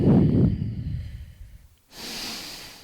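Heavy breathing during a core strength workout: a loud, close exhale trails off into near silence, then a softer, airy breath follows.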